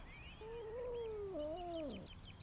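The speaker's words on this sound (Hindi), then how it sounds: "एक बिल्ली एक पेड़ में फंस गई है।" A single drawn-out, wavering meow comes from a cat stuck in a tree. It is clear but fairly quiet against faint outdoor background noise, with light chirps higher up.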